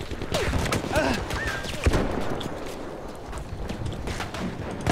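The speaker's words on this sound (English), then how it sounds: "Stop shooting through the walls!" Gunfire and bursts of shooting in the World War I shooter Battlefield 1, a dense, loud crackle of shots through the clip with a sharp crack near the middle.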